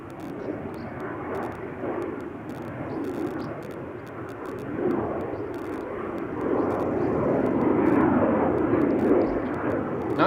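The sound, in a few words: KLM Embraer 190 jet taking off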